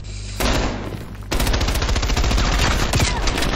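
Rapid automatic gunfire in the Black Ops Cold War gunfight tournament mode, loud sustained bursts of shots with a brief pause before a second, longer stream of rattling fire.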